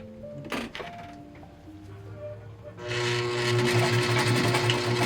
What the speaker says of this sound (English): now we need to sew our straps